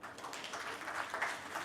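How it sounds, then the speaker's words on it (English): A round of applause at a valedictory function fills the hall, steady, dense clapping from the audience without a break. "I think everybody deserves a round of applause, but this man deserves more"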